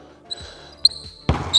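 A basketball bounces on a court during a shooting drill, with a couple of hard thuds and squeaky shoe chirps, a sharp bounce closing the short burst.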